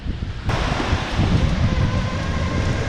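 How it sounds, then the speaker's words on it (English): Wind gusts buffet the microphone with a low, rumbling roar that starts abruptly and continues steadily, with no voices, at a high viewpoint over the port at Cannes. "It's a little bit windy"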